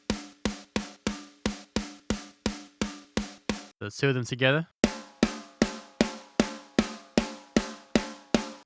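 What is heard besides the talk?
layered snare drum sample: Drumforge Ludwig Supraphonic LM400 and Ludwig Jazz Festival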